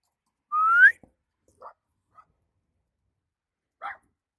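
A dog in a VR detective game gives a single sharp rising yelp-bark, followed by a few short, faint barks spaced apart in otherwise quiet surroundings.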